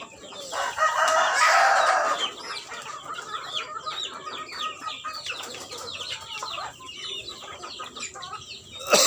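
A rooster crows loudly near the start, followed by a busy flock of chickens clucking and chattering at close range, with no talking.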